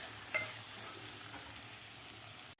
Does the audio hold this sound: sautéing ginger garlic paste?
yes